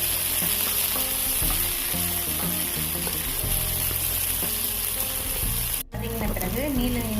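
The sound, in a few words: onion and tomato sautéing in pan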